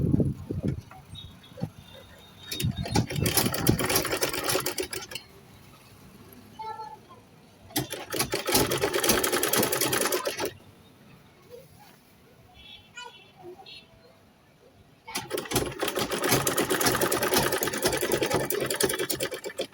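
Sewing machine stitching a single seam to close up a shirt dress, running in three long, loud whirring bursts with quieter pauses between them where soft handling noises and a few ticks are heard.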